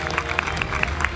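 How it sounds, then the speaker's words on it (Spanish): A studio audience applauds on a televised quiz show, steady clapping filling the whole brief moment without pauses. "¿Quién te aplaude a rabiar?"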